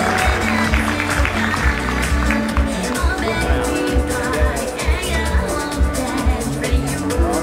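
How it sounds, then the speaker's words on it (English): Audience at a 2012 awards ceremony in Australia applauds the World Cup–winning team, a dense, steady crowd clapping of moderate loudness lasting the whole stretch, with a voice heard speaking over it. "Give them a big round of applause,"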